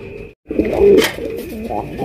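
Pair of red Rasgolla pigeons, a breeding running pair, cooing softly in a loft, a short low throaty coo rising then trailing off, with faint background chatter.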